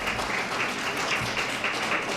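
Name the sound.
audience round of applause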